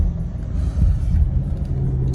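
Car cruising slowly up quiet side streets on a Sunday, a steady low engine and road rumble swelling slightly midway, close and continuous with no talk.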